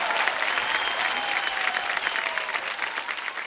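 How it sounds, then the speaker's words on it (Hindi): Audience applause fills a large hall at the Filmfare Awards show, a dense, sustained wash of clapping from a big crowd with faint voices mixed in. "एक बार जोरदार तालियां।"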